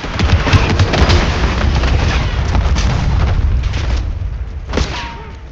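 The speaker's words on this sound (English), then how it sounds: "Mortar on the way." Mortar explosions in the Call of Duty Black Ops 6 campaign land as loud, deep booms that roll on in sustained rumbling, with a further blast near the end.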